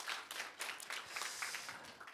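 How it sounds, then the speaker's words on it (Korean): In a church at a congregational retreat, worshippers clap for a guest pastor and his wife, a soft, distant and steady wash of applause that continues throughout. "우리 크게 박수해 주시기 바랍니다"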